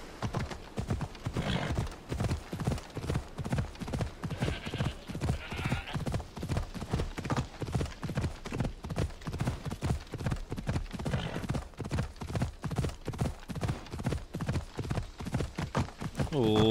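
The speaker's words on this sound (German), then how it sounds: "Pferdchen." Horse hooves clip-clop in a steady trotting rhythm in Assassin's Creed Odyssey, with a whinny near the end, loud and continuous under game music and ambience; someone talks briefly.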